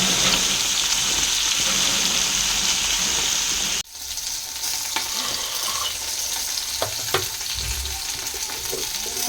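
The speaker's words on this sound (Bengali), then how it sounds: "একদিকে হচ্ছে মাছ ভাজা" Fish frying in hot oil in a kadai, a loud steady sizzle that drops briefly partway and resumes slightly quieter with scattered pops and stirring clinks, no talk.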